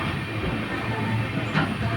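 A train on the Araku to Visakhapatnam line rolls along the rails with a steady rumbling hiss and faint wheel noise, heard up close for a short stretch without talk.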